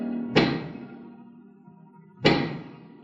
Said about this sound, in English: That is the sound of a giant pick.